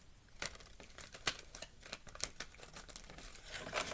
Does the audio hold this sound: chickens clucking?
no